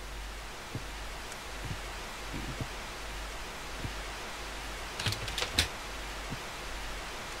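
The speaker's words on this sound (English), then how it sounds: "didn't realize the TV turned back on." Steady hiss of TV static fills a horror video game scene at low level, with a few faint clicks and rustles scattered over it.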